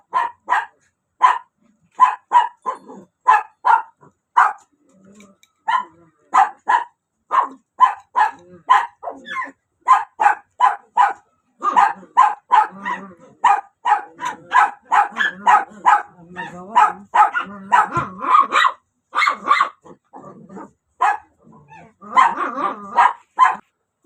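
Several dogs barking repeatedly and close by, sharp yips in quick bursts with brief pauses, growing busier and overlapping midway.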